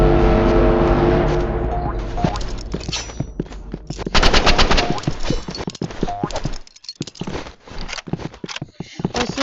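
An assault rifle in a video game fires in rapid, loud bursts of closely spaced shots, with pauses between volleys and horse hooves and game sounds underneath.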